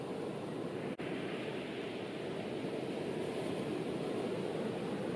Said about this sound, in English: There is only the sound of the ocean